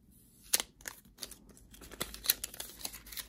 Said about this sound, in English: Let's go ahead and take this plastic off.